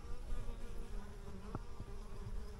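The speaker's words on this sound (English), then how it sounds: "I know a lot of people kind of freak out from bees" Bees buzz around lavender in a home garden in Chapala, Mexico, a faint steady drone close by with a few brief louder passes over quiet outdoor background.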